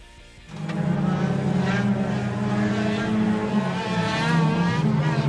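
An engine revs up and holds a loud, steady whine as a car accelerates, with a faint tire squeal mixed into the drone.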